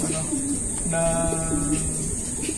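A racing pigeon coos in low, repeated throaty phrases, close and clear over a steady background hiss, with faint soft voices behind it.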